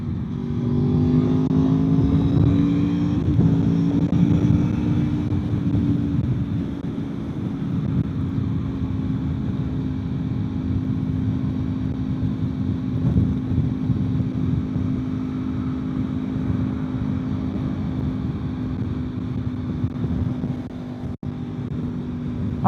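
A V4 motorcycle engine drones smoothly through its exhaust while riding, a steady close hum that rises slightly early on, then holds an even cruising tone with wind rush, eases off near the end and has no talking.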